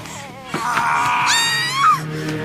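A woman lets out a loud, wavering scream in a dramatic scene, the cry rising and bending in pitch over about two seconds and heard alone at close range.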